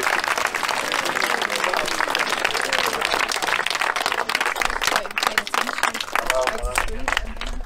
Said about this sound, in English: keep that applause going a bit louder for Rob and for the emergency services